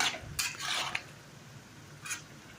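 Curry of brinjal and potato being stirred in a pot, then a lid set on, heard as a few scraping, clattering kitchen strokes close by, with a brief metallic clink near the end and no talk.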